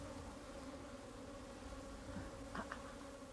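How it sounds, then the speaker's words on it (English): Honeybees returning to the spot where their hive was removed buzz in a steady, faint drone, with a couple of brief louder passes near the end. "bees, which were foraging when the hive was removed, are returning"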